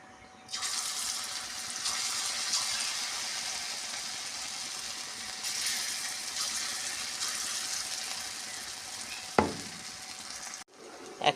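Jackfruit seed and pea dal fritters fry in hot oil in a wok, giving a continuous hissing sizzle with a sharp knock near the end and no talk.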